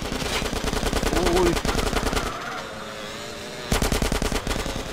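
Rapid automatic gunfire from a GTA San Andreas Multiplayer match comes in two loud, evenly spaced bursts split by a short lull, with a quiet voice briefly underneath.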